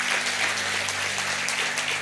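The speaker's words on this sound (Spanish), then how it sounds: "Vamos a darle un aplauso fuerte al Señor," Church congregation applauding loudly, a dense, continuous clapping from many hands that fills the whole brief moment with no break.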